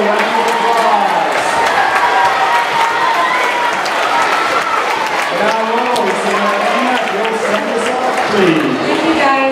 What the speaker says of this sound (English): Let's give your Latinos in the middle school a round of applause.